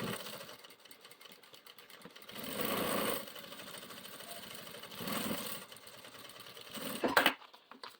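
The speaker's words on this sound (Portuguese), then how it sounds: "Vou fechar aqui as laterais também com a costurinha bem na beiradinha." A sewing machine runs in bursts while stitching the sides of a toiletry bag along the very edge, its motor whirring steadily with louder surges and a brief sharp click near the end.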